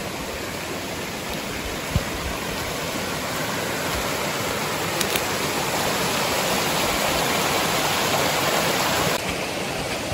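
A forest stream, the Córrego do Bacon, running beside a woodland trail: continuous close rushing and splashing water, dense and steady for the whole stretch, with no voices over it.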